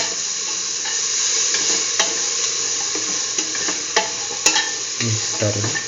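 Split chickpeas stirred into a yam stew, giving a continuous bubbling sizzle with repeated spoon scrapes and clinks against the pot, close up and with no talking.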